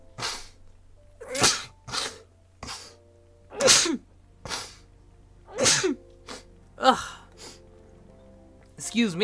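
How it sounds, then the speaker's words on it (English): A streamer sneezes repeatedly, a series of sharp, close bursts spread over several seconds with gasps and breaths between them. "I'm gonna sneeze."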